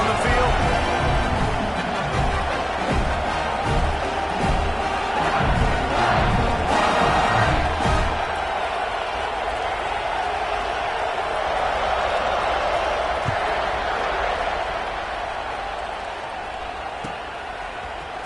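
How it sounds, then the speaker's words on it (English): Football stadium crowd in Tennessee roaring around a kickoff, a dense steady wall of cheering that eases slightly toward the end, heard beneath broadcast commentary. "You think this crowd's going to get loud when their defense comes on the field?"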